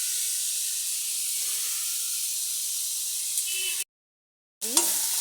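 Spices hitting a hot pan of frying chapila fish and eggplant set off a steady, bright sizzle that holds evenly, briefly cuts out, then resumes with faint clinks.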